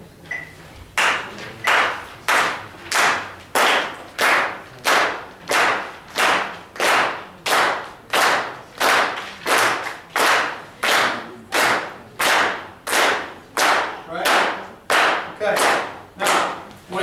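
Steady, evenly spaced hand claps, about one per second, continue for over fifteen seconds, each landing on a faint metronome click set to 90 beats per minute that stays mostly hidden.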